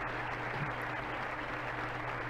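Steady applause on the clapping screen of the video game Wild Animal Racing, a dense continuous crowd of clapping at even loudness throughout.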